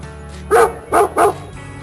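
Three quick, high-pitched yips from a puppy, close and clear, evenly spaced over a quiet background.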